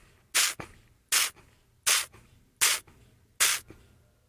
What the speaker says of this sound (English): when you taste it, you want to do a method called Stripaggio, where you create a repetitive spray effect like this